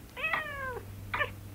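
A cat meows twice nearby: a longer drawn-out meow followed by a shorter one after a brief pause, over a low steady hum.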